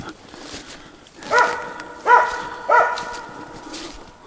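Three sharp dog barks spaced about a second apart, moderately distant, with quiet outdoor background between them; a dog barking at a squirrel up in pine trees in the taiga.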